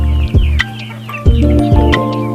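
Rhode Island chickens cluck close by amid a loud, continuous low hum, with short sharp calls and chirps from young chicks breaking through in a few spots.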